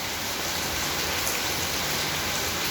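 Heavy rain pours down steadily in a dense, constant hiss of drops beating on surfaces close by, with no break and no voices.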